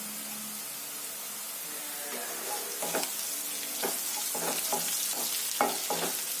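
Curry leaves crackle and sizzle in hot oil in a pan for a moong dal gravy, a steady hiss with sharp pops and spatters that build midway, close and fairly loud, with no voices.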